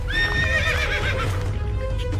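A bandit's horse in a cartoon gives a clear, wavering whinny that rises and trails off, with light hoof clip-clops sounding along with and after the neigh.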